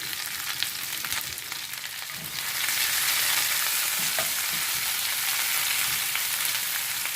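Food caramelizing in a hot pan gives a steady, dense sizzle that swells louder after the first couple of seconds and holds close and continuous, with faint stirring knocks underneath.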